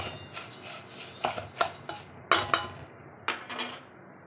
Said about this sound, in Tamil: இந்த மாதிரி அரிசி பருப்பு ரெண்டுமே வந்து நல்லா மிக்ஸ் பண்ணிக்கலாம்.